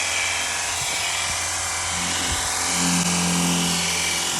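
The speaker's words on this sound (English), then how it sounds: "it comes with this small pressure washer that you hook" A small portable pressure washer, hooked to an 8-gallon portable water tank for a Jeep or truck, runs with a loud, steady motor drone and pump whine that holds unbroken throughout.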